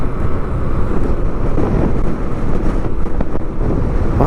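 Strong wind buffets the microphone in a loud, continuous rumbling roar with gusty surges near an airport construction access road, and no voices are heard.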